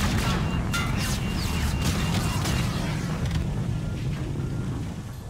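Gunfire and explosions from the Call of Duty: Infinite Warfare campaign form a dense, continuous barrage of loud overlapping shots and booming blasts that tapers slightly toward the end.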